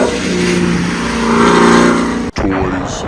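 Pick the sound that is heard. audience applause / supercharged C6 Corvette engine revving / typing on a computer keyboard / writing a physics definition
supercharged C6 Corvette engine revving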